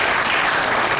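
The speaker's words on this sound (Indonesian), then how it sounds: "Tepuk tangan buat desa Bagurjo." A dense wash of applause from a large crowd at a village development gathering, loud and continuous for the whole moment.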